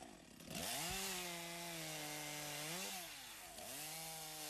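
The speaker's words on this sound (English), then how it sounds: "This is where trimming of the logs is also done." A chainsaw trims logs at a timber landing, its engine revving up and holding a steady loud drone with brief dips in pitch as it bites, close and continuous.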